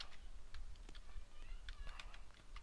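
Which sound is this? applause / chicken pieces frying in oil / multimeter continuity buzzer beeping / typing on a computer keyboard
typing on a computer keyboard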